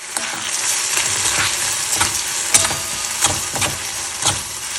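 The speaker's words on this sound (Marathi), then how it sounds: "त्यात आता मी दही टाकते आणि गॅस हलवून गॅस बंद करते" A spoon stirs curd into taro-stalk bharit in a hot pan, scraping and clinking in irregular strokes over a steady, close sizzle.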